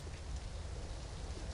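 Steady rain pours in the video game Star Wars Movie Battles II, a dense, even hiss of drops on surfaces that holds constant and fairly loud throughout with no voices.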